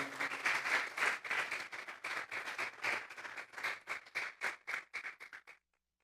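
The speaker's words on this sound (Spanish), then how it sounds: "Vamos a darle una ofrenda de palmas a Dios en esta hora." A church congregation applauding, a burst of many hands clapping that starts dense and loud, thins into fewer separate claps and stops abruptly, ending in silence.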